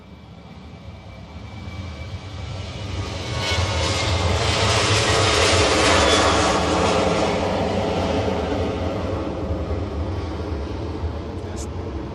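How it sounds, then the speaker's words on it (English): A jet airliner departs Bristol Airport, its engine roar swelling from the distance, peaking loud and broad, then slowly fading while still rumbling; a voice talks over it. "Here's your next departure just coming now."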